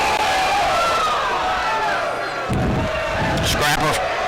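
A baseball crowd on opening day at a Nashville versus Ashdown game reacts to an umpire's call with loud sustained voices that swell midway, along with a commentator speaking over it.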